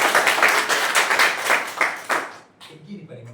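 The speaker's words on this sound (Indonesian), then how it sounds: "berikan tepuk tangan ya" A classroom group in a teacher training session claps together, brisk and fairly close for about two seconds, then stops and a voice speaks quietly.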